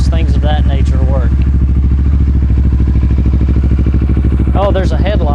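A used motorcycle engine idles steadily while warming up, its loud, even, rapid thumping running throughout as people talk over it.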